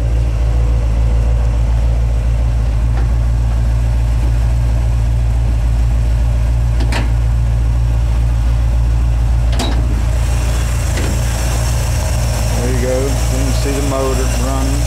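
The 350 V8 in a 1972 GMC Jimmy idles with a steady, loud low rumble under the open hood, and a person talks over it near the end.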